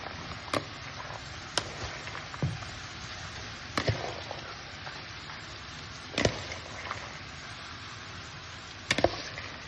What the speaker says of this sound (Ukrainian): Морква з цибулею просмажились, додаємо нашинковану капусту.